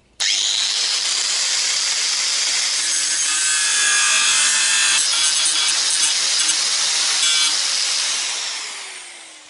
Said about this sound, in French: je vais en profiter pour meuler les soudures que mon prédécesseur avait fait